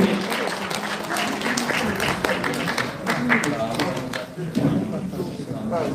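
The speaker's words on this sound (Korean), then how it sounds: "박수로 함께 도와주세요" Audience applause in a National Assembly conference hall at a political party leadership candidate's book launch event, dense continuous clapping from a crowd with talk mixed in.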